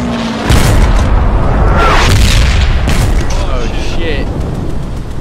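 Artillery shells explode in Hell Let Loose, a WWII shooter: a loud, close boom hits and rumbles on through several seconds of heavy, crackling blast noise as a player swears.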